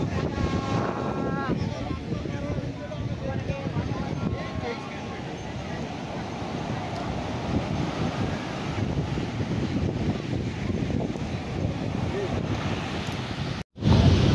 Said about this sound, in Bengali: খুব সুন্দর হাওয়া, প্রচণ্ড হাওয়া থাকায় অতটা গরম লাগছে না